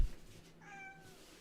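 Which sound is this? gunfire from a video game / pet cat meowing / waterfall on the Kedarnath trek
pet cat meowing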